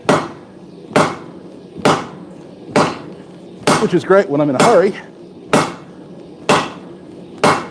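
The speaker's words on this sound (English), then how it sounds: "the heavy hammer helps me with moving steel faster" A heavy hammer strikes steel by hand in a forge for suminagashi scrap damascus, landing evenly spaced loud blows, nine or so across the stretch, while someone talks over the middle strikes.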